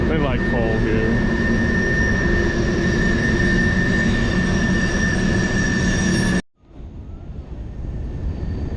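A freight train hauling coal rolls past at Ohiopyle State Park, Pennsylvania, a loud steady rumble with high wheel squeal and rattling cars that cuts off abruptly, leaving quieter outdoor ambience; a voice speaks briefly near the start.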